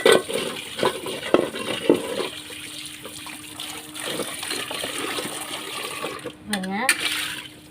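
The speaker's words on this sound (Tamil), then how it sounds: "இப்போ கழுவ போகிறேன்." Water runs and splashes steadily as something is rinsed clean, a continuous close wash with brief clatters, under occasional talk.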